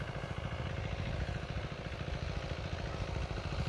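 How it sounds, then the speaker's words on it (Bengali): An irrigation pump runs in a distant crop field near a pond with ducks and moored boats, giving a steady, throbbing engine rumble that holds at an even level throughout without pause. "দূরে ফসলের জমিতে সেচ দেওয়া হচ্ছে, সেই শব্দ শুনতে পাচ্ছেন আপনারা"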